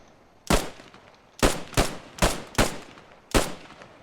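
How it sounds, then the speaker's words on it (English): Gunfire in the Post Scriptum video game, five sharp, loud single shots at irregular intervals of roughly a second, each with a short ringing tail, heard alone without talk. "Returning fire."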